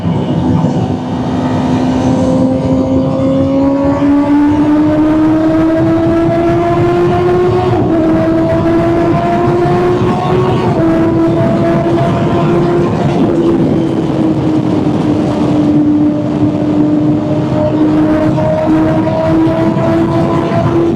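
Kawasaki ZX-10R motorcycle accelerating through a tunnel at night, its engine whine rising steadily in pitch through the gears, loud and close with a reverberant roar throughout.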